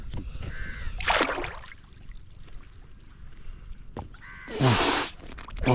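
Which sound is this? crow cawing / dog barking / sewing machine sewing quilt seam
crow cawing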